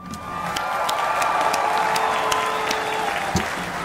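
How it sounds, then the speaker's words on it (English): Applause and cheering from a commencement crowd for the Baltimore City Community College graduating class of 2020, a steady dense roar of clapping with scattered whoops, sustained and loud throughout. "joining me in applauding the BCCC graduating class of 2020"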